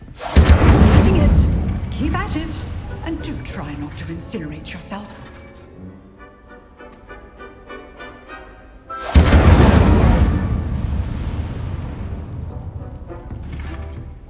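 Incendio fire spells blast classroom practice targets in Hogwarts Legacy, two loud roaring bursts of flame with a fading crackle and tonal magic shimmer between them, with voices speaking over parts of it.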